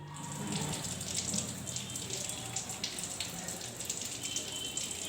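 Water running steadily from a pipe, likely into a bucket or tub for washing clothes, with a continuous close splashing hiss and no talking.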